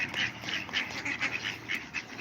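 Ducks quacking at a duck pond: a steady series of short, nasal calls repeating every half second or so, moderately close, with no talk over them.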